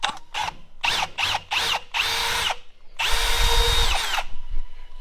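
A power drill fires in short repeated bursts, then runs in longer grinding stretches as it bores out an old sway link bushing on a diesel tow truck, loud and close.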